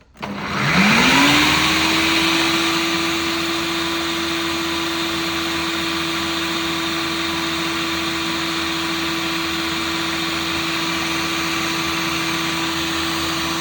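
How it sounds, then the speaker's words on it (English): An electric mixer spins up with a rising whine and then runs at a steady, loud drone while mixing keto bread dough with goat cheese, with no other sounds over it. "I'm going to put that on and give it a nice mix."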